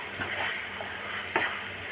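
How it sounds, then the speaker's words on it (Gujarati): A spoon stirs moth bean masala in a pan, with a couple of soft scrapes over a faint sizzle during a short, quiet moment without speech. "બધું સરસ મિક્સ કરી લેવાનું છે"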